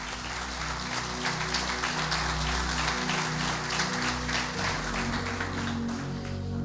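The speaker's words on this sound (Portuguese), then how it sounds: "Pode aplaudir o Senhor." Congregation applauding during a church sermon, a steady, dense wash of clapping with a low sustained tone, likely organ or keyboard, running beneath it throughout.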